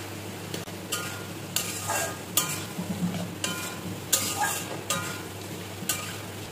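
Kundri (ivy gourd) is sautéed with spice masala in a pan, a steady close sizzle broken by regular bursts of spatula scraping and stirring, roughly every second.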